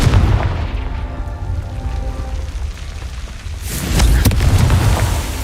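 A Confringo spell explosion from Hogwarts Legacy goes off as a deep, loud booming burst after a few seconds of low rumbling ambience, then the blast rolls on and fades.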